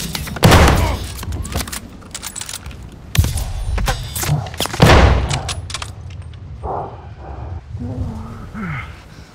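Gunfire in the Call of Duty: Vanguard video game, with heavy close shots and bursts at irregular intervals, some booming impacts, and spoken radio callouts between the shots.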